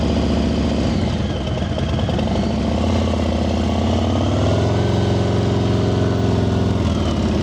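A motorcycle creeps along at very slow speed during an advanced slow-riding practice session in Nevada, its engine a steady low drone with slight pitch shifts as the rider feathers the throttle, holding constant and close throughout.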